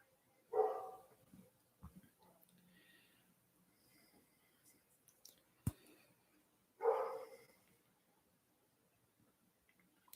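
A dog barks at a distance, two separate loud barks several seconds apart with faint snorts and quiet background noise between them.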